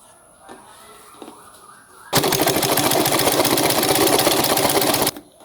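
A sewing machine stitching a dress starts abruptly and runs in a fast, loud, steady mechanical rattle for about three seconds, then stops dead, with quiet room noise before and after.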